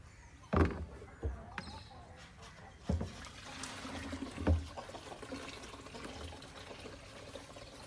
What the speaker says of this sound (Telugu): మనమైతే వాటర్ అంతా డ్రైన్ చేసేస్తున్నాం వాటర్ అంతా వడగొట్టేస్తున్నాం